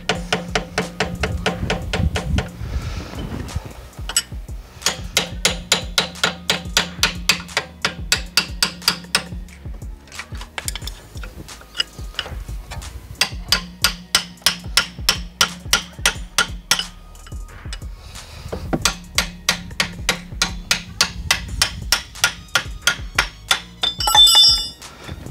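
Rapid metallic hammer blows drive a thin screwdriver into a brake gap on a BMW E60 during rear pad replacement, in bursts with short pauses, a sharp clinking ring on each hit, loud and close.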